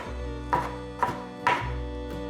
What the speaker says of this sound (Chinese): 把红甜椒切成小丁